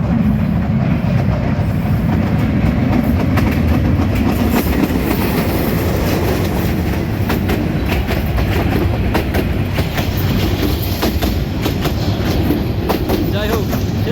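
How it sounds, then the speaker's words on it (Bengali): A train rolls over a bridge at Talora Junction, a loud continuous rumble with rhythmic clickety-clack of wheels close by, no talking. "চলো আমরা দেখেন ট্রেন আসতেছে এখন ব্রিজের উপর দিয়ে ট্রেন"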